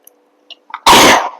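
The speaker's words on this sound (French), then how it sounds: "j'avais besoin d'éternuer" A single loud, abrupt sneeze bursts out indoors after a couple of quick sharp inhales, close to the microphone and alone, with no talk.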